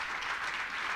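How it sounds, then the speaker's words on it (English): Brief burst of audience applause at a Monroe County budget presentation, dense steady clapping from a crowd lasting about a second, with no speech over it. "give that applause"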